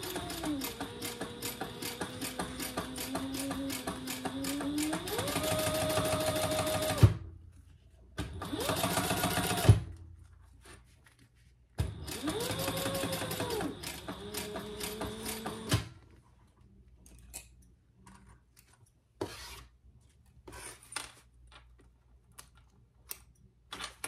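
Sewing machine top stitching a purse tab, rapid rhythmic needle clatter in three bursts of a few seconds each, close, separated by pauses with small handling clicks.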